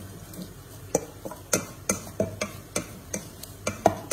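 A utensil stirs ingredients and a pinch of salt together in a pan for Italian cooking, giving a dozen or so quiet, uneven scrapes and taps against the metal in a loose rhythm.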